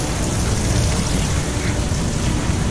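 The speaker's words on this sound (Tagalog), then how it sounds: "Nasa ulan" Heavy rain pours steadily and loudly during a storm, a dense, unbroken roar of water hitting surfaces that fills the whole scene with constant hiss and rumble and no talking.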